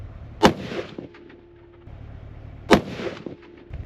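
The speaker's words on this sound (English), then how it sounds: "Okay, so we got our first 3 shots off." Two sharp, loud rifle shots about two seconds apart, fired outdoors while sighting in a rifle, each with a short rumbling echo trailing behind.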